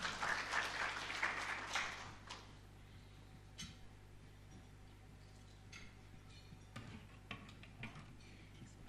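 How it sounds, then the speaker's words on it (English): At a savings cooperative's investor briefing, an audience claps briefly and fairly faintly for a couple of seconds, then only scattered single claps and small room noises follow. "We can clap for her as she comes."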